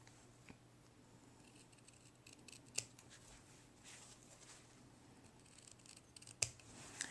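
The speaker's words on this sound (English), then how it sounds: "clip your corners" Scissors snip the fabric corners of a sewn zippered coin purse, a few sharp isolated clips spaced apart against a faint steady background hiss, with no talking.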